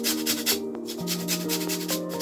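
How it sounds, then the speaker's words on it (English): A lime is zested for a coconut spiced seabream sauce, a series of dry rasping strokes against the grater, close and rhythmic with short pauses between passes. "We're going to use the zest of a lime, and we're also going to use some of the juice."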